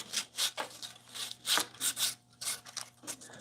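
Sanding old wood in a carpentry shop, close rhythmic rubbing strokes repeating roughly every half second against a faint background hum.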